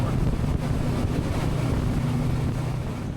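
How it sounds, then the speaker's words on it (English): Steady wind, about ten miles an hour, buffets a small fishing boat anchored over an inshore patch reef, with a continuous low rumble and hiss of gusting air across the microphone throughout and no talking. "And about a 10-mile-an-hour wind."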